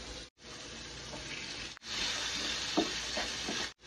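Carrots and chicken stir-frying for chicken fried rice, a steady broadband sizzle and scrape with a few brief clatters of the spatula, close and continuous apart from two short breaks.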